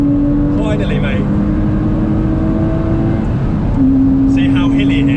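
Porsche Boxster Anniversary Edition pulling away onto the Nurburgring, a steady engine drone heard from inside the car as it gains speed, with people talking over it.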